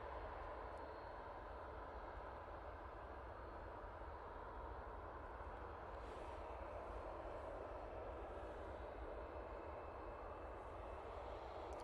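An ATR turboprop airliner inbound from the Isle of Man, arriving at Manchester Airport, produces a steady, continuous broadband drone. Its propeller and engine noise hold at a moderate, even level throughout, with no voices.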